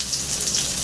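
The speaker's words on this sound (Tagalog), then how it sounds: "medyo umuulan." Steady rain falling, a continuous even hiss with no distinct drops standing out, moderately loud and close; no voices.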